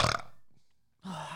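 A single short burp right up close, followed after a brief silence by a low voiced sound.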